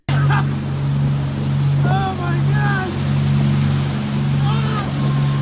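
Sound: motorboat engine

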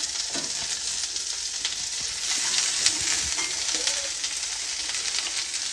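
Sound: chopped okra frying in a pan

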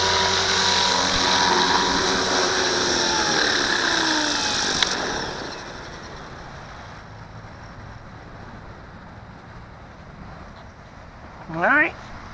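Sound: Walkera V450D01 RC helicopter landing

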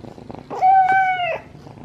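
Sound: cat purring

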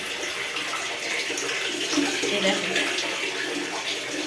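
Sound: water filling a deep cement tank

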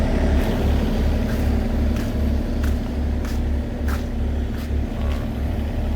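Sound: mini excavator diesel engine idling quietly

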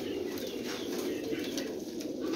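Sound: pigeons cooing

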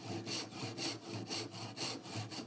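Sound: hand saw cutting a dovetail template

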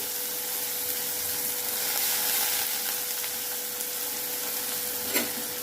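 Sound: frying dried fish with onion in oil

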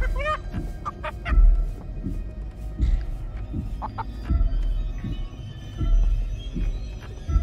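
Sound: giant chicken clucking in video game Chicken Feet

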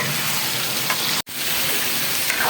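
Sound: beef frying and being stirred in a pot

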